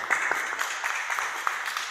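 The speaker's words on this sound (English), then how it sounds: "let's give them a round of applause" Steady applause from a crowd, dense clapping with a few sharper individual claps standing out, moderately loud and continuous.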